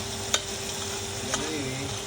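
Garlic and onions sautéing in a pan while making Kapampangan-style kare-kare: a steady broadband sizzle with two sharp utensil clinks from stirring, close and without talk.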